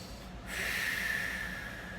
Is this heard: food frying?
no